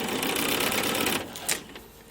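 A sewing machine stitches down one side of quilt block strips, a steady close whir of rapid needle strokes that runs loud for over a second, then stops, leaving only a few faint clicks and handling sounds.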